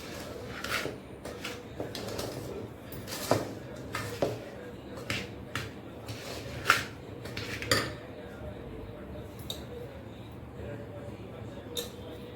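A spoon scraping and knocking against a pan while moong dal ladoo mixture with ghee is stirred, a string of sharp metallic clinks at irregular intervals over a quiet background, close and fairly soft.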